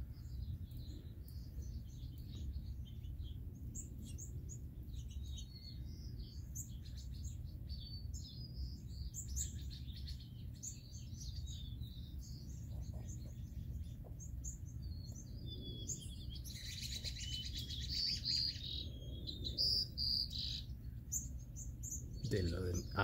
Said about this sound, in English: These are other birds.